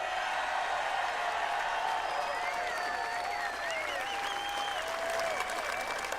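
A crowd at a Republican National Convention speech applauds and cheers in a sustained, dense wash of clapping, with whistles and shouts rising above it and speech heard now and then.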